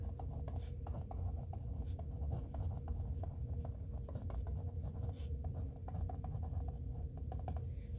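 An equation being written by hand, close up, with rapid, continuous scratchy strokes and brief taps of pen on paper.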